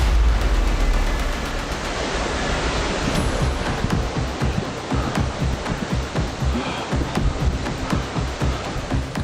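A waterfall roars close by, a loud, continuous broadband rush of falling water with gusty surges and thumping buffets on the microphone, no voices.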